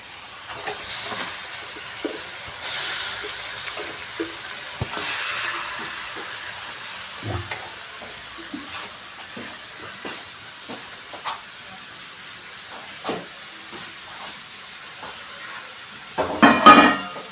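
Chicken pieces fry in a pan for a gongura chicken dish, a soft steady sizzle and hiss with occasional scraping stirs and clinks, ending in a few louder knocks of the utensil against the pan.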